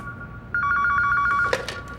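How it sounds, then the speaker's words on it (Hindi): A landline telephone starts ringing with a bright, rapid trilling bell that runs for about a second, then breaks into clattering knocks, near and fairly loud, with no talk. "अम्मी, हमें लैंडलाइन पर एक फोन आ रहा है,"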